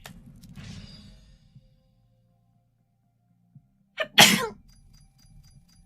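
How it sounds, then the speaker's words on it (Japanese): A single sharp, close sneeze preceded by a quick intake of breath, loud against an otherwise quiet background with faint rustling earlier. "あ、くしゃみ出そう。"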